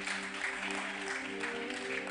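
A church congregation claps for the choir, a faint steady patter of hands with a droning tonal hum beneath.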